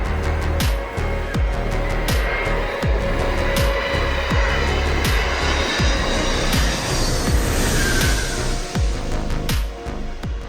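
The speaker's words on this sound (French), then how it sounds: "Il s'agit peut-être de l'une des vidéos d'atterrissage d'avion les plus étonnantes qui soient." An airplane landing, a broad engine and airflow roar that holds steady, punctuated by repeated sharp thumps and clatter throughout.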